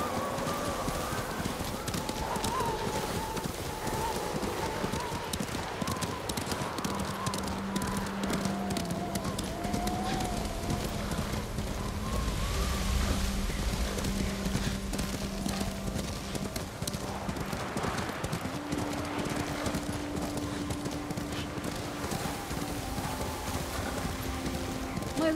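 Horse hooves clip-clopping at a steady pace in the game Ghost of Tsushima, running throughout under a bed of music and ambient sound, with a brief whinny.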